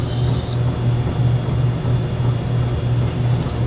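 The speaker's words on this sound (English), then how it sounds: "So let's move the throttle back down again." Simulated Kodiak aircraft engine from Flight Simulator X winding down at reduced throttle, a steady low droning hum with a faint whine on top, continuous and close, no voices.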